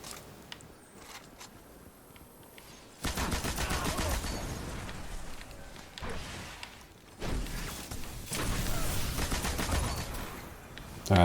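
A heavy weapon fires in the Destiny video game. After a quiet start, dense bursts of rapid shots roar in, pause briefly, then continue loud and sustained.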